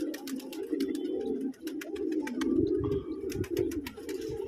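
Pigeons coo in a steady, overlapping chorus close by, with several birds at once and sharp clicks and flutters scattered throughout, no talking.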